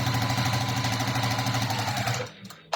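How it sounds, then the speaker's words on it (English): A sewing machine stitches quilt fabric pieces right sides together, a loud, steady, close mechanical whirr with a rapid rhythmic needle beat that stops abruptly near the end. "So again, right sides together, and we will stitch down this side."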